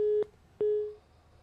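A telephone line gives a busy tone after a call drops, two clean beeps separated by a short gap, with nothing else heard.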